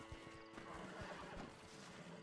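A horse in the video game Red Dead neighs and whinnies during a cougar attack, a loud, drawn-out cry with hooves clopping underneath and no speech.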